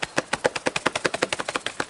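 A person imitating the drumming mating call of a ruffed grouse on a log, a rapid, even train of about twenty-five sharp thumps packed into under two seconds, close and punchy with no talking.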